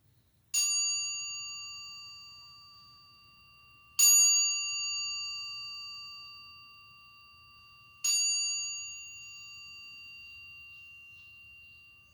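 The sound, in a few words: mindfulness bell ringing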